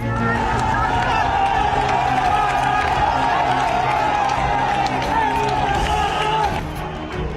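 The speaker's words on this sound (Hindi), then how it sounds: "लोगों की भीड़ ने टैंक को घेर लिया और जमकर नारे लगाए" A crowd of protesters surrounds an army tank during violent unrest in Bangladesh and chants slogans; a dense, loud roar of many shouting voices continues throughout, then eases near the end.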